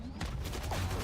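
Rapid gunfire from the video game Valorant rattles in a quick burst over dense game sound and a commentator's voice during a collegiate esports match.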